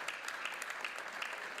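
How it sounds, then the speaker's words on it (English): A church congregation claps in praise during a guest sermon, a steady, moderately faint wash of many hands with no voices over it. "put your hands together and let's give God a mighty clap of praise"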